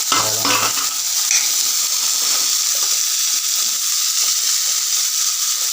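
Pomegranate goes into a hot frying pan for mathala upperi, a stir-fry with chilli powder and salt. A loud, close, steady sizzle and hiss continues throughout, with faint stirring scrapes at the start.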